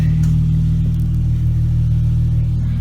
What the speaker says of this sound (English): Okay, we're going to take a drive in my 300 with my custom exhaust and intake on it.